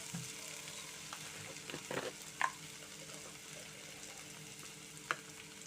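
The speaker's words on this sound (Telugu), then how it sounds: "అలాగే ఈ పచ్చనపప్పు, మినపప్పు కూడా నూనెలో వేగాయి చక్కగా" Chana dal and urad dal fry gently in oil with onions, a soft steady sizzle with a couple of brief spoon taps against the pan, quiet and without speech.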